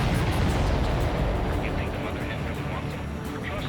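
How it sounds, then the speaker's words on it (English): A supply ship explodes in the Ace Combat 7 flight game, a heavy rumbling blast that decays into sustained roar beneath voices talking over the radio. "Did you see that explosion? Looks like that's one of them down."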